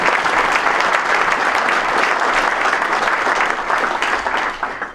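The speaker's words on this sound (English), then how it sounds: "A round of applause." Sustained, loud applause from a gathered audience honoring golf course staff at a spring meeting of PGA assistants at Old Oaks, dense steady clapping for about five seconds with no voices over it.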